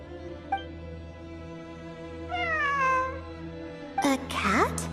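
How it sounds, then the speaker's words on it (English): A cat meows in a game setting, giving a short call and then longer, drawn-out wavering meows and a sharper yowl, heard fairly close above a steady low hum. "It really is a cat."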